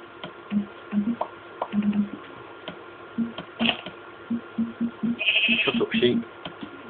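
Video-game sheep bleat in repeated short calls, several in a row and fairly close, while someone talks over them throughout.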